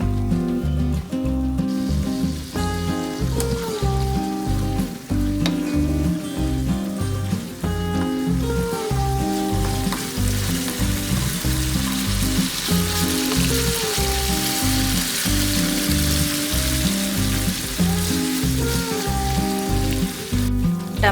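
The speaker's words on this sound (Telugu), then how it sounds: "ఈ టమాటా ముక్కలు బాగా మెత్తగా ఉడికే వరకు బాగా ఉడికించుకోవాలి." Tomato pieces cook down in a pan for a masala egg curry, giving a steady, continuous sizzle of frying that runs without pause over a dense tonal background.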